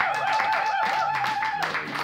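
A church congregation claps and applauds for the glory of Jesus, a brief burst of many hands with a sustained musical tone underneath.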